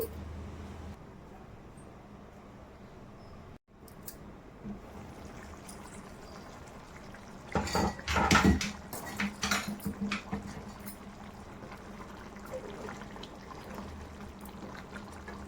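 Water poured into a pot of chicken curry cooking on a low flame, a splashing burst that builds then trails off into a trickle, close by with a low background hum.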